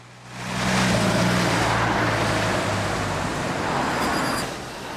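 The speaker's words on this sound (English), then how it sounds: "another ex-Metroline Cummins-engined bus in the form of RML 2727, now repainted into original LT livery" A Routemaster bus, RML 2727 with a Cummins engine, now in original London Transport livery, passes at a sedate pace on a London street in 2005, its engine rumble swelling loud and close and then holding steady amid traffic noise.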